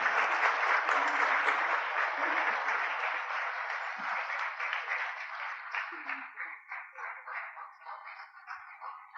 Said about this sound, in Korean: 여러분 큰 박수로 맞이하여 주시기 바랍니다.